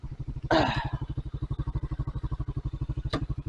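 A Skygo Boss 150 motorcycle engine idles with the idle turned up, giving a steady close thumping pulse, with a brief clatter early on and a short sharp knock near the end.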